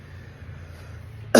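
A man gives one sharp, loud cough right at the end after a stretch of quiet room noise.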